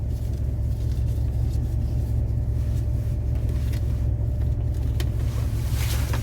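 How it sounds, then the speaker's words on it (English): Steady low road rumble from cars passing on a nearby street, with gusty wind buffeting the microphone throughout; no talking. "There's a lot of cars going through here right now."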